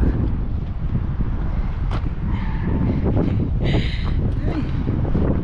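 Steady gusty wind at the top of a mountain near Jeddah, Saudi Arabia, buffets the microphone with a constant low roar, with a few faint tonal sounds drifting in the background.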